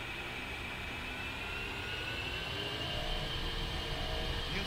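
A-10C Warthog twin jet engines spooling up toward full throttle on the ground in the DCS flight simulator, a steady rushing roar with a rising whine that grows slightly louder toward the end.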